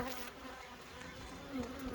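Honeybees buzz right against a phone as two Layens hive colonies are combined, a close, dense, wavering drone with no voices.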